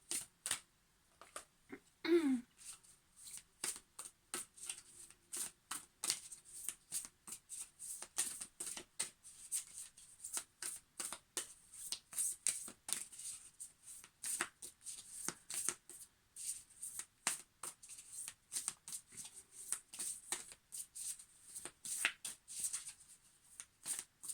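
Isis Oracle cards being shuffled by hand, a steady run of soft, rapid riffling flicks repeating close up for the whole stretch, with no talking.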